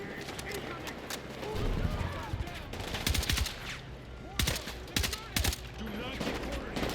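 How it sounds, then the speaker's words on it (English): Sustained automatic gunfire in the video game Battlefield 6, with repeated loud bursts and sharp shots over a busy battle din, and voices shouting in the background. "Cover fire."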